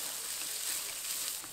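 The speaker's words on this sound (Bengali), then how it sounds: "এবার ভালো করে মশলাটাকে কষিয়ে নেব।" Ground masala paste with salt, turmeric and Kashmiri chilli powder sautés in a pan for mutton curry, a soft, steady sizzle with faint hiss and no talking.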